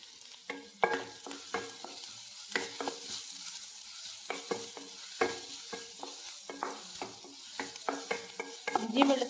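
Ginger garlic paste frying in a pan for a Kerala-style paneer roast, a soft steady sizzle broken by repeated scraping stirs of a spoon against the pan, close and moderately quiet, with no talking.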